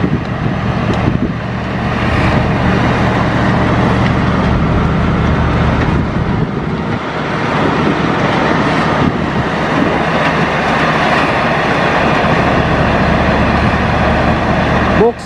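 A box girder carrier hauling a 32-metre full-span concrete box girder arrives at a subgrade section of a high-speed rail construction site, its steady loud engine and heavy-vehicle rumble running continuously throughout.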